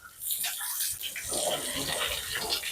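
Water splashing and pouring steadily while a pet is bathed in summer, a continuous rushing, spattering wash close by with no pauses.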